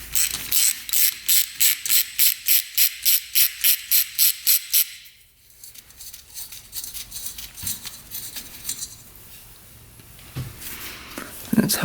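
On the 100HP hovercraft engine, a ratchet clicks rapidly and evenly for several seconds while the starter is worked loose. Quieter scraping and handling of metal parts follow.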